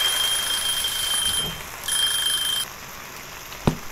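A kitchen timer alarm in Cooking Simulator rings with a shrill, steady electronic beeping that runs in two bursts before cutting off, followed by a single soft click.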